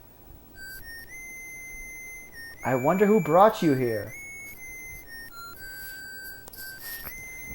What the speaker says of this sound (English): This whistle, it must have been Proto Man.